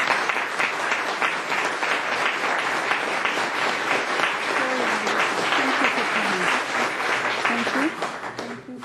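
Sustained applause from attendees at a city council meeting, clapping for children, steady and dense throughout, with faint voices mixed in before it thins out at the end.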